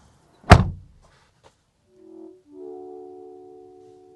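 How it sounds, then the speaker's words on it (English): A 2026 Honda Civic Sport Hatchback door shuts with a single solid thunk, followed by a quiet pause and then soft electronic chimes. "Shutting up the door, you get a little animation there and sound effect"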